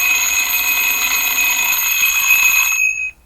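A vibrating alarm clock rings in a steady, loud, high-pitched electronic tone for about three seconds and then cuts off abruptly.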